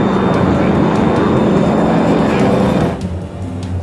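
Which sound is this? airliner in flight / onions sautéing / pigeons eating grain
airliner in flight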